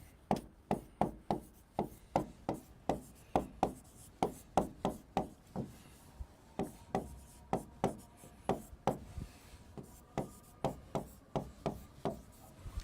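Chalk or marker writing on a board during a lecture on functions makes a close, rhythmic run of short scratchy strokes, roughly two per second, with brief pauses and no talking over it.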